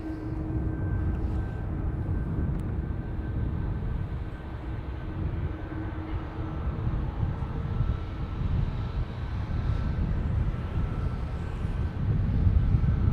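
A WestJet Boeing 737 MAX airliner arriving at Dublin Airport gives a steady, distant jet roar with a faint tonal whine that holds for the whole stretch, alone with no talking.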